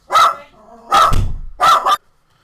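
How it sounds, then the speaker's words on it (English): A dog barks three times, loud and close, in quick separate bursts with short pauses between them and quiet in between. "My apologies for the dog about to bark."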